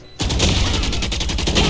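Sustained automatic Spectre fire from Valorant, a dense rapid burst of shots starting abruptly after a brief quiet moment and holding loud and steady to the end.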